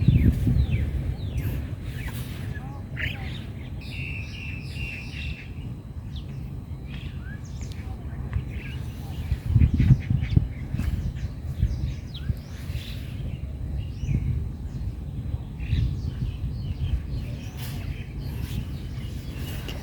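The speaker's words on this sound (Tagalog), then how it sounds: "Dami talaga ng mga ibon ngayong umaga." Many birds call and chirp at sunrise outdoors in Hong Kong near coconut palms, scattered high twittering over a steady low rumble of wind or traffic.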